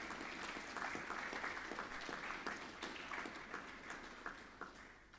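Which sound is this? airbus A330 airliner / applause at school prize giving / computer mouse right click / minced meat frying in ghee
applause at school prize giving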